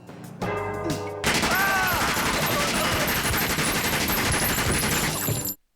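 Loud, dense gunfire from the anime Gunsmith Cats: after a brief quieter lead-in, a sustained barrage of rapid overlapping shots and impacts fills the remaining seconds before cutting off abruptly.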